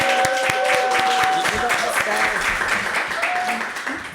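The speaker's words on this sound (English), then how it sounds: "Round of applause, y'all, for these people." Applause rises from a live audience at a talk show debate, ringing out steadily for about four seconds while voices and chatter carry underneath and the clapping fades slightly at the end.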